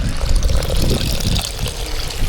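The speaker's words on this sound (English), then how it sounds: "you've literally got a hose of water just coming out of a rock face, and that water's boiling hot" Boiling hot spring water gushing out of a rock face outdoors: a loud, continuous rushing splash that stays steady and close throughout.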